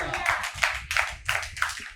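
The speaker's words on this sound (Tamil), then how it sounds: "கைதட்டுங்க." A church audience claps hands at a Tamil Christian sermon, five or six quick bursts of applause in a loose rhythm, close and fairly loud, with a voice faintly underneath.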